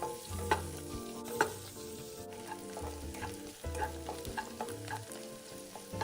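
Finely diced shiitake mushrooms stir-fry in fried shallot oil, a soft steady sizzle broken by scraping stirs and a few sharper spatula knocks, close up, with gentle music playing underneath and no talking.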